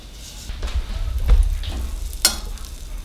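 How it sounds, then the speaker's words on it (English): Butter melts and sizzles in a hot pan with a steady close crackle, broken by a few sharper clicks and scrapes of stirring, and no one talking. "Now we're gonna melt this butter."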